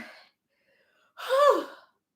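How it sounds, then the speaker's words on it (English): A woman breathes heavily while struggling through a burning exertion, one strained, gasping breath standing out after a faint earlier exhale, close and alone without talk. "She is breathing heavy."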